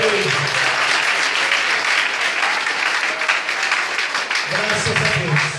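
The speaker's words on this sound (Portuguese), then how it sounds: "Aplauda Jesus por Deus." A church congregation applauds, continuous dense clapping filling the room for several seconds while a voice speaks through it near the start and end.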